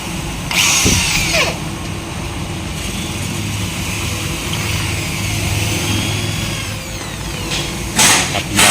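A power drill bores out crimped stake points on Mazda 2 Skyactiv suspension parts in a workshop, a steady close, loud whine running through nearly the whole stretch with brief bursts of higher squeal near the start and end.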